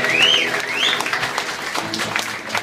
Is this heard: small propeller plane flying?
no